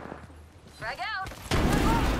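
A frag grenade goes off after being thrown through a window in the Apex Legends video game, with a sudden loud blast and rumble following a short voice and game sounds.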